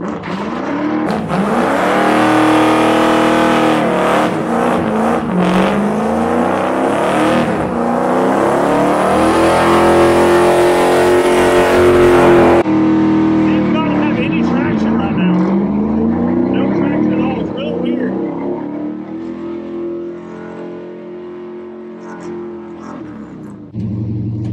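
A 1985 Chevy C10 truck with a 305 engine running on a couple of disconnected spark plug wires launches hard, its loud revving climbing and falling over about twenty seconds before settling into a quieter roar.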